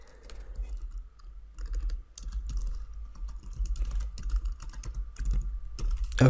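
Fingers tap out an email address and password on a computer keyboard, a quick irregular run of close, crisp key clicks with short pauses between bursts.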